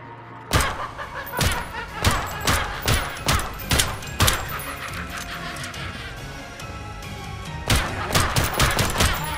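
Repeated gunshots from a first-person game, sharp loud bursts arriving in quick irregular volleys, a pause in the middle, then a final flurry of rapid shots.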